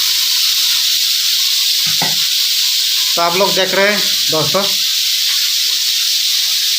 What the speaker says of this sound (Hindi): अभी क्या है अच्छा से फ्राई हो रहे हैं मछली सब।